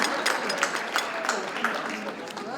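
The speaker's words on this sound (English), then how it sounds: "can we just give a round of applause to our most excellent entertainment?" Banquet guests at a chamber of commerce gala applaud the evening's entertainment, with dense, sustained clapping throughout and scattered cheers.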